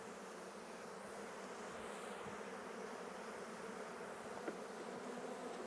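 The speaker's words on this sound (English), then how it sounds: "there's a lot of bees in here." A dense, steady hum of many honeybees buzzing together at close range inside an opened production hive, continuous and unbroken throughout.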